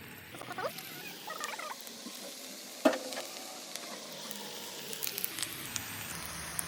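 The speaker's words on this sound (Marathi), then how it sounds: "आता ह्याच्यामध्ये आपण भजी सोडत आहोत." Onion bhajis fry in hot oil in a kadhai, giving a soft continuous sizzle with faint crackles and one sharp clink partway through, quiet and close.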